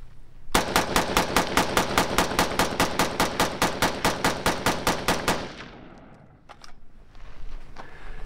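Rapid rifle fire at a shooting range, about twenty evenly spaced loud shots in a fast unbroken string, then a quieter stretch with faint clatter and handling noise.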